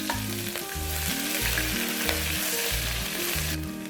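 Ginger, garlic and green chili sizzle loudly in hot oil in a pan for a cooker biriyani, a steady close frying hiss with a low rhythmic hum beneath.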